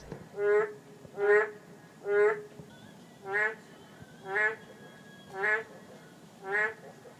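At night in a palace pond garden, Korean narrow-mouthed toads give a series of seven loud, nasal, bleating croaks at an even pace of about one per second over faint background hiss.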